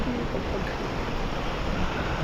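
Strong ocean waves surging around a small fishing boat at sea, a steady loud wash of water and wind noise with no distinct breaks and no voices.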